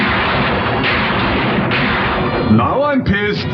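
Gunfire from an old black-and-white monster film plays under constant chatter and laughter from several people talking over it. Near the end come a few louder bursts and sweeping tones.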